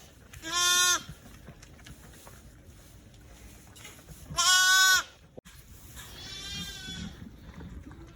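Newborn lambs bleat loudly twice in short high cries, with a softer bleat from the ewe near the end, against a quiet farm pen background with faint rustling.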